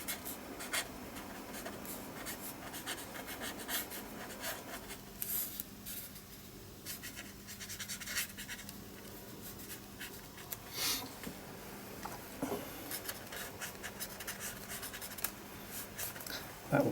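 Pencil scratching and rubbing across paper as an outline sketch is drawn for a purple-themed painting, steady close-up strokes with short pauses, alone without talk.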